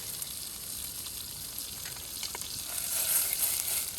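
Bell peppers sautéing in oil in a pan, giving a steady soft sizzle with faint stirring that grows a little louder toward the end, heard alone without talk.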